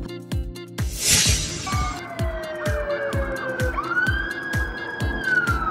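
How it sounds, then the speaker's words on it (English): A police car siren wails and sweeps in pitch over a rhythmic thumping backing beat, loud and close throughout. "Police car."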